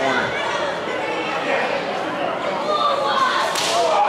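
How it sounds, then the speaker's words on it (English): A pro wrestler delivers a hard double chop slap to an opponent's chest in the corner, sharp whip-like cracks ringing out over a loud, constant arena crowd roar with commentary running throughout. "big double slap to the chest"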